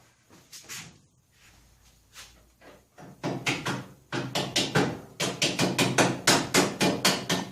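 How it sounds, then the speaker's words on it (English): A small hammer taps a part into place on a 1977 John Deere 210 lawn tractor, starting with scattered light knocks and building into a quick, steady run of sharp metallic taps. "I have to tap that in, probably."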